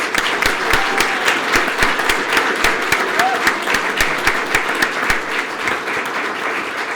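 At a police department awards ceremony, an audience gives a round of applause for award recipients, loud continuous clapping with a few sharp individual claps standing out in a fairly even rhythm.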